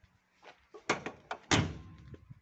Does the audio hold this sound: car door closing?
yes